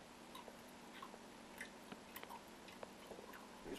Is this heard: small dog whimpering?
no